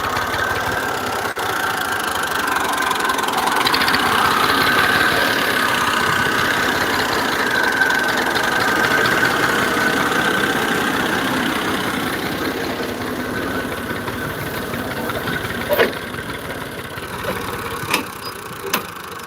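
A tractor engine idles steadily in a Punjab village, a continuous loud mechanical rumble with faint knocking that runs throughout, with a few sharp clicks near the end.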